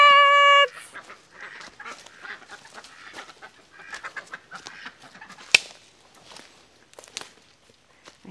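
Chickens on a homestead farm cluck and murmur softly at a distance, scattered irregular calls across the stretch, following a brief loud tonal burst at the start, with faint footsteps and no clear talk.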